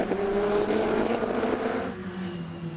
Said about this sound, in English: couple of cars turning through Riches already